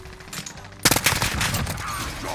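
An AN-94 rifle firing in Call of Duty Modern Warfare: a loud, close automatic burst breaks out suddenly and keeps rattling in rapid, jagged shots, with faint game sounds before it and no talking.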